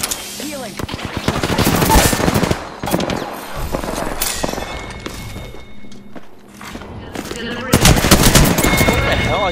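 Automatic weapon fire in the Apex Legends battle royale: loud, rapid bursts of machine-gun shots that start and stop repeatedly, along with thuds and footsteps and brief speech from a player.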